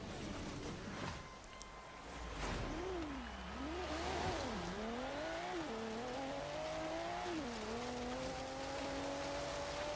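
A 2015 Volvo V60 Polestar with its stock engine climbs a snowy hill in Forza Horizon 3. The engine note rises and falls through repeated gear changes, with tire noise and a steady background hiss, and no talking.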